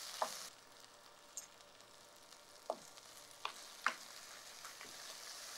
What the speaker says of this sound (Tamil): இதை குறைச்ச தீயில் வச்சு வதக்கிட்டே இருக்கும்போதே